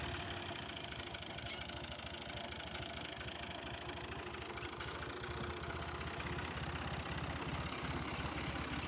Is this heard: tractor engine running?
yes